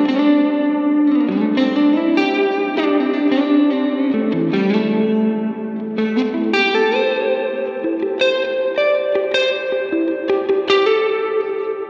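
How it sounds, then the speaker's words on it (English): Electric guitar played through a Line 6 Helix dynamic plate reverb set to zero pre-delay and a long decay, each picked note immediately washed in a lush, shimmering tail as a slow melodic line rings on, loud and alone. "you can kind of hear how the reverb engulfs the note right off the bat"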